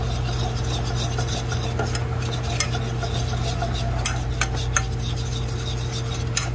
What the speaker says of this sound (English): then we just stir it until it becomes kind of a paste type like